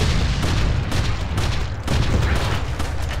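Grenade blast in Resident Evil 4: a dense, loud burst of booming noise with rumbling that carries through a few seconds of chaotic combat sound.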